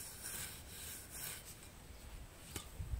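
A dethatching rake scrapes dead debris from a lawn in repeated rough rasping strokes, soft and close, with a slightly louder scrape at the very end.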